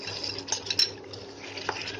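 Chicken pieces being stirred into tomato masala gravy in a pan, with a utensil scraping and clicking against the metal in a few irregular strokes over a soft, steady sizzle.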